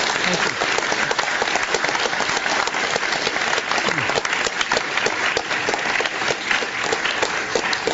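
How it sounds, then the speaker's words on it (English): An audience at a public appearance breaks into loud, sustained applause, with dense clapping from a large crowd continuing evenly throughout. "Let's give a big round of applause for Mr."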